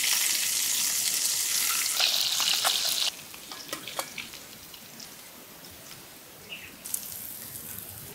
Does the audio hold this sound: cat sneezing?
no